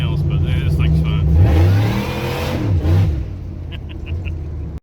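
A supercharged Chevrolet 5.3 V8 truck engine fitted with an Eaton M122 GT500 blower on a Holley high-ram intake revs loudly and close, rising and falling through a few throttle blips, with someone talking over it.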